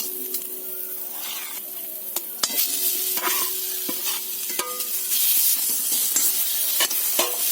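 Mashed potato stirred into fried spices in a pan, close spatula scrapes and squelching knocks over a bright underlying sizzle, with repeated sharp taps against the pan.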